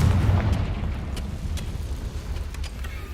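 Spell explosion from Confringo in Hogwarts Legacy, a loud low booming rumble with sharp crackling bursts scattered through three seconds of sustained blast noise.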